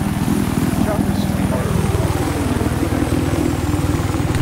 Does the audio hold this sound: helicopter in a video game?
yes